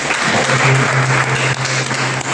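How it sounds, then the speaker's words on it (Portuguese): A church congregation claps loudly during an evening worship service, a dense, steady burst of applause filling the hall for a couple of seconds without speech. "Você pode aplaudir o nome dele bem forte?"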